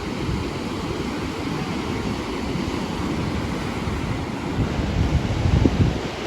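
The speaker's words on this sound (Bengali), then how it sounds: "সমুদ্রের ঢেউটা একটু শোনেন আর দেখেন, তাহলে বুঝতে পারবেন।" Sea waves breaking along the shore beside the Cox's Bazar–Teknaf Marine Drive, heard as a continuous rough surf wash under steady buffeting wind on the microphone, swelling slightly louder toward the end.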